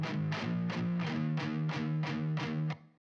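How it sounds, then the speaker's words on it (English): Distorted rock guitar played through an amp simulator with reverb added, a chugging rhythm of evenly spaced palm-muted chords, loud and dense, ending with a reverb tail that fades out. "So let's dial in a reasonable amount of reverb."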